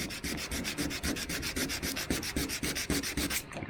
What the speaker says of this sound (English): If I start to just take that edge back there